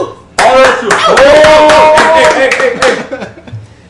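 A small group claps on a podcast after news of an engagement, a short burst of close hand claps with chuckles and voices mixed in, dying out after about three seconds.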